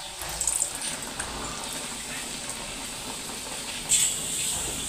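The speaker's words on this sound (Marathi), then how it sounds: "तेलही तळलेलं आहे, तापलेलं आहे। तळून घेऊ पुरणपोळी।" Puran poli frying in heated oil in a pan gives a steady close sizzle and hiss, with brief sharper crackling bursts near the start and again toward the end.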